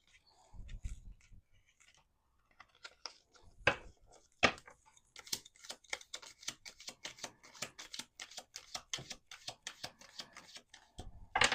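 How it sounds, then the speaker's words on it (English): Tarot cards are shuffled with rapid, crisp riffling and flicking clicks that speed up into a dense rattling patter, close and moderately quiet. "we're doing one more shuffle."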